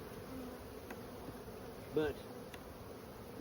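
Honeybees from a large, crowded colony drone in a steady, close hum around an open hive while a keeper searches for the queen, with one brief spoken word and a short louder flare near the middle.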